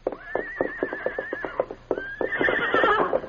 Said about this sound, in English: The great horse Silver immediately recognized the whinny of his offspring, Victor.